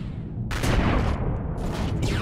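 Cannon fire at an enemy ship in Empyrion Galactic Survival, a dense rumbling burst of blasts that swells suddenly and holds as a continuous roaring barrage, loud and close with no talk.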